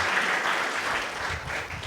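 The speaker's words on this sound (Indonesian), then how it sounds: "Yang diberikan tepuk tangan meriah buat Tuhan kita" Church congregation at a worship service breaks into loud, dense applause that holds steady throughout before tapering slightly at the end.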